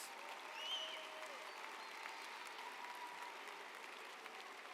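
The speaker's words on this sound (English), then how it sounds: "Please join me in a round of applause." A commencement audience at a community college ceremony applauds, a soft, even wash of distant clapping that holds steady throughout.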